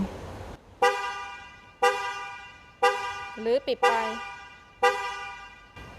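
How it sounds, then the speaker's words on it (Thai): An MG5 car horn, triggered by its digital key, honks in four short, loud blasts spaced about a second apart, with a voice speaking briefly between them. "ถ้ากดปุ่มซ้ายก็คือสั่งให้มันส่องไฟแล้วก็เปิดแตรนะคะ"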